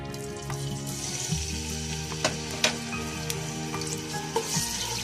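Garlic sizzles in half a cup of hot oil for egg and chicken fried rice, a steady close frying hiss broken by a few light stirring clicks.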